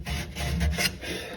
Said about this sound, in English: Sandpaper in here too. Make sure it's nice and clean.